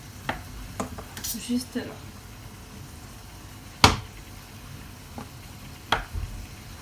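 Minced meat seasoned with paprika and salt cooks in a pan, a soft steady sizzle under occasional sharp utensil scrapes and clacks, with a voice speaking briefly nearby.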